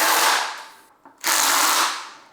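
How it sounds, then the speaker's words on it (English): A Ryobi impact driver with a hex bit removing bolts during the teardown of a crashed Begode Master V4 electric unicycle, two loud close bursts of rattling hammering separated by a short pause. "I got a set of hex bits for my Ryobi impact driver"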